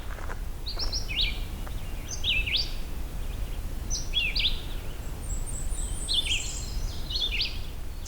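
An indigo bunting sings in a swamp, delivering clear, sweet paired phrases in a repeated series at moderate distance over a quiet hissing background.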